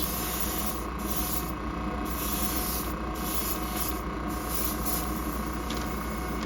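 A spray gun applies Kaleido gloss varnish to a car hood with a continuous, close hiss, broken by several brief pauses and restarts as the gun sweeps in overlapping passes.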